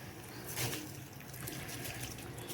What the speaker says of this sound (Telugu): వాటర్ మరిగిపోతుంది. ఇప్పుడు రైస్ వేసేద్దాం.